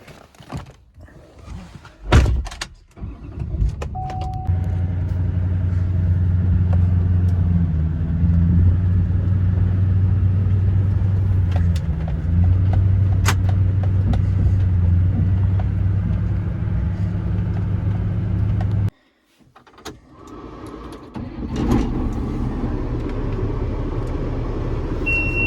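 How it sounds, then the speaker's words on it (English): A pickup truck rolls forward across a muddy farm field at night during planting, its engine a steady close rumble after a door thunk, then a pause and further clunks and idling near the end. "Let's pull this truck ahead so I don't have to walk so far."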